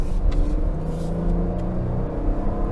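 A 2022 Toyota Highlander's V6 engine under hard acceleration, a loud, steady low rumble and whir from inside the cabin, with no talk.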